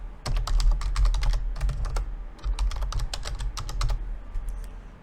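A password is typed on a computer keyboard in fast, close clicky bursts of keystrokes with brief pauses between runs, over a low background hum.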